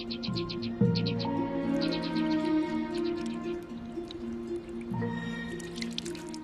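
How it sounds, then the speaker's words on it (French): Glacier meltwater drips and trickles into rock fissures in an Austrian alpine setting, giving clear, close, irregular plinks and watery squelches with bright, chirp-like tones, heard alone. "L'eau de fonte s'infiltre dans les fissures de la roche et emporte un peu de la chaleur du soleil jusqu'au cœur du glacier"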